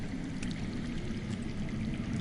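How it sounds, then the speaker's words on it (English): Steady low rushing of water flowing underground in a Game of Thrones video game, a faint continuous stream with no breaks. "I hear water. From underground."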